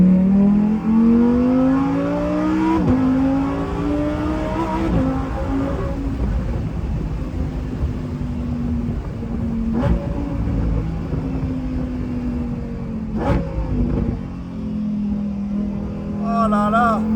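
A Lamborghini Huracan Performante Spyder engine accelerates with a loud, close rising roar through the gears, repeated surges and shifts over a constant rumble, with people talking over it.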